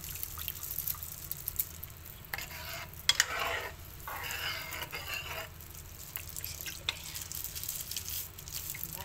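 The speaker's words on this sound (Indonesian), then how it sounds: "Kita tambahkan santan kentalnya" Thick coconut milk being stirred into a yellow-broth fish curry, with soft, quiet sloshing, gentle bubbling and a few light drips over a low background hum.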